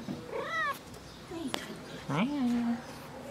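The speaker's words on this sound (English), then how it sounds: "I think this is a cat with just three legs." A three-legged cat meows twice at close range, the calls rising and falling, with a later meow drawn out into a long tone against a quiet room background.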